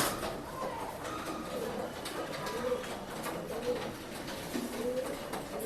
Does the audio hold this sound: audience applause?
no